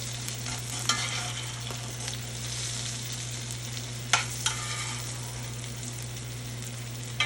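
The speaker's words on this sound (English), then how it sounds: "Cooking a steak on the cast iron pot is so easy." NY strip steak searing in a cast iron pot, with a constant close sizzle broken by a few sharp scrapes and knocks as it is moved, and no talking.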